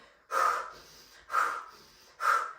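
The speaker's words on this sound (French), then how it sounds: "tu vas venir respirer doucement, très doucement pour les personnes qui n'ont pas l'habitude" Three close, audible breaths during a breathing exercise, each a soft airy rush of about half a second separated by short quiet pauses, with no talking.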